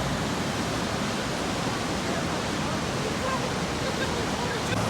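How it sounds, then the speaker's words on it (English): Rushing river water deep in a narrow canyon, a loud, steady broadband roar with no breaks, filling the whole scene as seen from above. "we are literally looking down at that rushing river that is carving out this narrow canyon"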